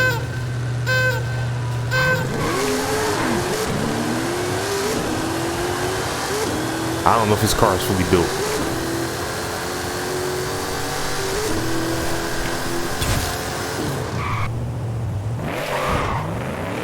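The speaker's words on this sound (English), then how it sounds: "And this is how my Trackhawk launches." Jeep Grand Cherokee Trackhawk launching on a drag strip in Forza Horizon 5, engine revving high then roaring as it accelerates away, with rising gear-change sweeps; someone talks over it.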